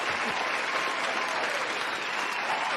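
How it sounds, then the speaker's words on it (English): A full, steady round of applause from a crowd, dense and continuous from start to finish without a break. "A long, full, loud round of applause."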